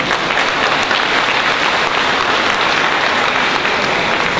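Loud, sustained applause from an audience at a DAP general election campaign rally in Taman Mawar, a dense continuous wash of clapping that holds steady throughout without letting up.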